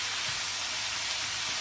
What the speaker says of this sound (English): You might be able to hear that sizzle there